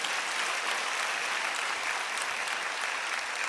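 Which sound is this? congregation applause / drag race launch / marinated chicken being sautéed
congregation applause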